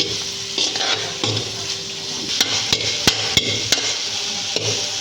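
Dry anchovies roasting in a pan, stirred with a spatula: a steady frying hiss under scraping strokes, with several sharp knocks of the utensil against the pan toward the end, close and fairly loud.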